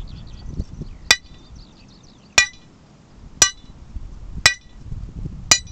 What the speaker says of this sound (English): when I'm turning the drill rod is to keep it as still as possible so the person on the other end doesn't miss it with a hammer